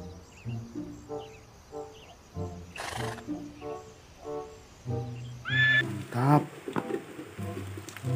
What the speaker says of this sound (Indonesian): Wow, ternyata ini ada kuda teman-teman.